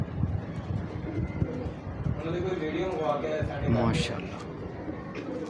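A Nag pigeon cooing close by, soft low throaty coos partly masked by someone speaking and light wind noise.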